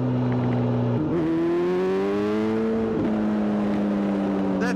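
Kawasaki ZZR 1400 motorcycle engine under way, a loud, smooth four-cylinder drone that holds steady, rises under throttle and dips briefly at a gear change, heard up close with wind rush.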